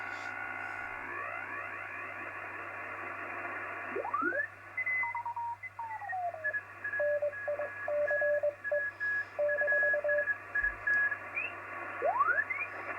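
Radio interference from switch mode power supplies on the 80 and 40 metre HF bands, heard as whistling heterodyne tones that sweep and step in pitch as the receiver is tuned, with beeping carriers over a steady low hum.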